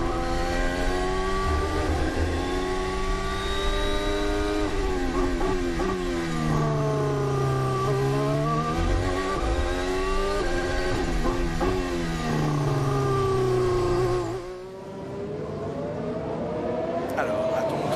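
Formula 1 cars race in a tight pack at the 2020 Hungarian Grand Prix, loud high-pitched engine whines rising and falling through gear changes, several cars layered together, with broadcast commentary talking over them before the sound briefly dips.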